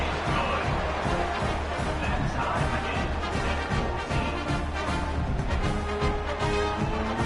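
Stadium crowd in the College Football 26 video game roars continuously and loudly throughout, a dense, steady wall of cheering with no pauses, heard around a kickoff after a tying extra point.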